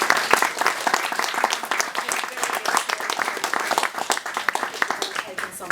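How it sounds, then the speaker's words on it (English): An audience at a talk and Q&A claps steadily, a dense wash of applause from many hands that carries on without pause for several seconds. "Please join me in giving Stephanie a very lovely round of applause"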